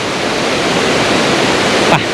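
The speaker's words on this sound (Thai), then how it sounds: "ช่วงนี้มันช่วงหน้าฝนนะครับ น้ำก็ไหลแรงธรรมดานะครับ" Yung Thong waterfall flows strongly in the rainy season, a loud, steady roar of rushing water close by that fills the whole clip without a break.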